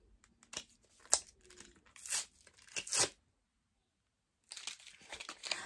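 Plastic packaging of a correction tape being ripped open by hand in several short, close tearing and crinkling bursts, then a pause of silence before more crinkling.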